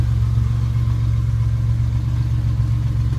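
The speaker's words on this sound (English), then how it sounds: "Yo, he's always revving his engine. Rev your engine!" A car engine runs with a steady low rumble and faint mechanical clatter, close and constant, without clear rises or falls in revs, and no voices over it.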